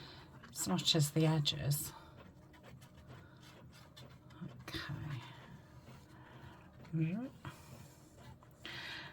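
A home printer runs nearby, its mechanical whirring and rasping carriage strokes coming in bursts and quieter stretches under a person talking softly.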